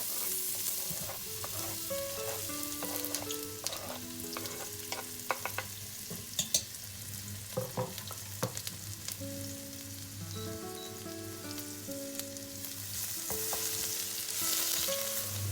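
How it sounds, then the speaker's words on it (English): Onion and garlic sauté in a pan for a bean and rice dish, a steady sizzle with scattered clinks and scrapes of a utensil. Some tonal background sounds carry on underneath. "we're going to add onion and garlic. And we're gonna saute them."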